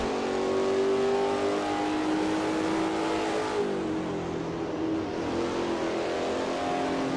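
On board a Holden Commodore race car during a qualifying lap in a simulator championship, the engine drones loud and steady, rising through revs and dipping briefly at a gear change before climbing again.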